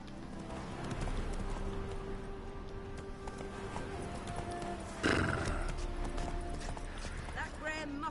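Roach, a horse in The Witcher 3, clip-clops at a trot with hooves thudding steadily, then neighs loudly midway, with bridle jingles and a spoken voice over the hoofbeats.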